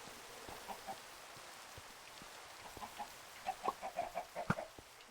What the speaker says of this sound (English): So, chickens,